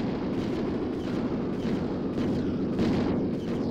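Rapid, overlapping explosion blasts from the Serious Sam video game as skeleton enemies are blown up, a dense roar of repeated booms lasting throughout without pause.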